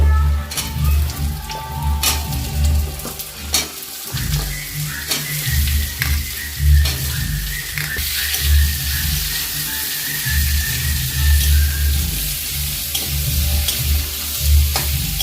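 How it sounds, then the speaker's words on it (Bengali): Raw potato pieces frying in a pan for a pabda-tangra fish dish, a loud continuous crackling sizzle with repeated scraping stirs throughout, close and busy, without talk. "আলুটা সরাসরি দিয়ে দেবো, দিয়ে ভালো করে কষিয়ে নেব"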